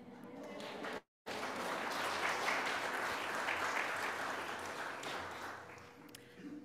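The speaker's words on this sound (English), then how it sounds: "a big round of applause for everybody" A congregation at a Unitarian Universalist church applauds to welcome new members, a dense sustained clapping that fills the room after a brief gap, fading slightly near the end.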